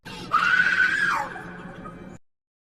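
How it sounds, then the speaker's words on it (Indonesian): A woman screams in despair: a single loud, shrill cry that climbs, holds for about a second, then falls away and trails off into silence. "wanita itu pun kemudian berteriak"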